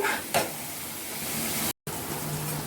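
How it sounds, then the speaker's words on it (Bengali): Spices fry in a pan for a rohu fish curry, giving a steady low sizzle and a soft scrape of stirring, with one brief louder clink near the start and a short cut of silence. "আমার মশলা ভাজা হয়ে গেছে"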